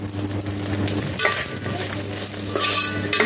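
Sheep head curry stirred and frying in a pan, a steady close sizzle with scraping stir strokes and a constant low hum beneath, no talk.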